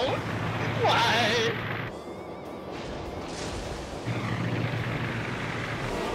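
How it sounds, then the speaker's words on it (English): Aircraft engines drone overhead in the World of Warships naval battle game, a steady broad roar that swells and fades across the scene, mixed with in-game effects. "All these planes are gathering."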